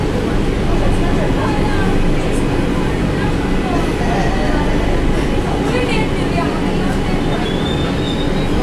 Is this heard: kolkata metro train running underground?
yes